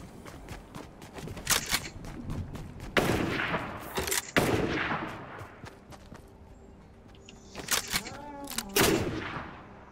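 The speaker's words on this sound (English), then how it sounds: "I think I just hit that sniper shot." Sniper rifle fire in a video game, several sharp, loud cracks spaced a few seconds apart, each followed by a ringing tail, with rapid smaller gunfire and clatter between them.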